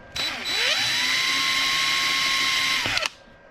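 Power drill cutting through metal to fit fan screws, a loud, steady high whine that revs up, holds for nearly three seconds, then stops abruptly with a brief clatter.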